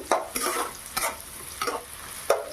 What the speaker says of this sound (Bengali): এটা আমি হালকা আঁচে ভেজে নেব কিছুক্ষণ ধরে